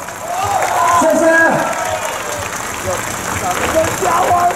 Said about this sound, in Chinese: 除了尖叫声还要有掌声好不好啊